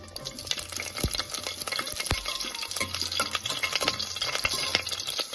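Green chillies fry in hot oil with mustard seeds and fenugreek. The oil sizzles and crackles steadily while a utensil scrapes and stirs the pan in repeated close, sharp taps, with no talking.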